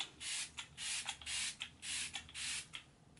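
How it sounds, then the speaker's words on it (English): Smashbox Photofinish Primer Water sprayed onto a face in several quick hissing mist bursts from a pump bottle, close and fairly soft, with short pauses between sprays. "I'm just going to first spray it with the Smashbox Photofinish Primer Water."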